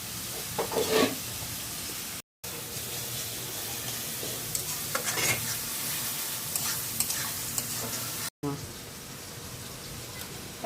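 Onions frying in oil for a fish curry in a home kitchen in Naogaon, with a steady sizzle and occasional stirring scrapes, brief clatter and a voice talking in the background.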